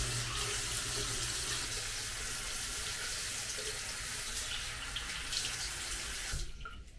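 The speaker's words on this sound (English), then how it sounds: "But let me wash my face." Water from a sink tap runs steadily at close range as a face is washed, a continuous broad splashing rush that stops abruptly near the end.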